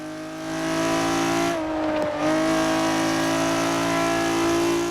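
A video game sports car engine, modelled on a Ferrari 250 GTO, drones steadily with strong harmonic tones, briefly dipping and shifting pitch mid-clip as if changing gear, then holding again; no talking.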